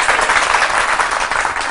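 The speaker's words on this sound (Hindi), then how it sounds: "दोबारा तालियां बजा के बताएं." Studio audience on a morning TV show breaks into a steady, dense round of applause, loud and continuous throughout with no voices over it.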